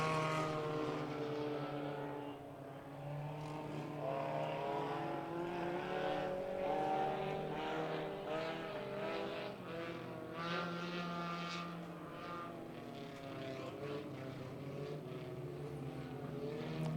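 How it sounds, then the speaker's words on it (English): Race cars lapping an oval racetrack at a night racing event, several engines roaring together in a sustained, layered drone that rises and falls as the cars pass, heard from a moderate distance with no talk over it. "So Brian Wilson going to limp that car towards the pit area."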